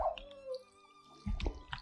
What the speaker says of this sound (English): You hit my dog, bro? That was my dog.